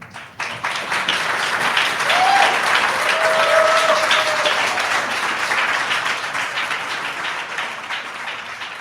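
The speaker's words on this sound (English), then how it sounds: "I was cautioned to tell all of you not to clap until it's over." Audience at a town hall applauding, dense sustained clapping that swells and then slowly tapers, with a brief tonal voice or whistle partway through.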